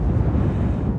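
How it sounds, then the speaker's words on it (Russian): Strong crosswind batters the microphone at the White Rock clifftop in Crimea, a steady, dense low roar that fills the moment without a break. "Боковой ветер сильный."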